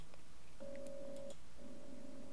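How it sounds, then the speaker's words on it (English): A telephone rings in the Poppy Playtime Chapter 3 teaser trailer, two sustained electronic ring tones, each just under a second long, separated by a short pause, heard clearly with no talk over them. "That's the phone."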